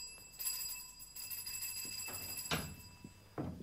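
In a radio drama, a bell rings to summon someone, giving a faint, sustained electric ringing tone with a few soft knocks and rustles underneath.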